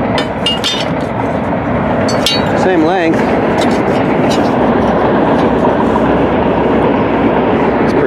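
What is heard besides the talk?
fuel train passing by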